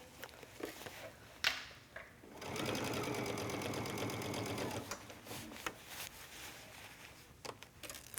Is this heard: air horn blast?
no